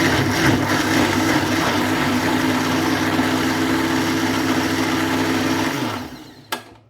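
Electric kitchen grinder whirring as it blends a mint and onion chutney with a little water, a loud steady motor drone that runs evenly for about six seconds, then winds down and stops with a brief clunk.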